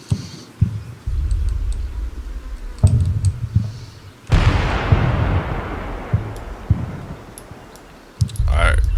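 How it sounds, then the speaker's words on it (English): Gunfire erupts in the Combat Mission Black Sea war game, a sharp burst followed by a loud, sustained rumble of shots and explosions, with scattered clicks and thuds before and after. "I heard a gunshot"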